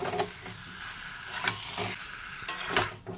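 Boiled garlic cloves go into a sizzling pan of spiced masala, a steady hiss of frying punctuated by several sharp spoon clatters and stirring scrapes close by.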